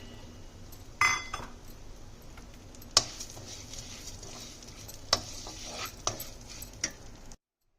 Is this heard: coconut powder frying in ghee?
yes